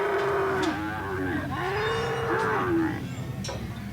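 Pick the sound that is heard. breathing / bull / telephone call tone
bull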